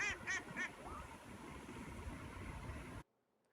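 Ducks quack outdoors: three quick, moderately loud quacks at the start, then a softer call, over steady ambient rumble before the sound cuts to near silence.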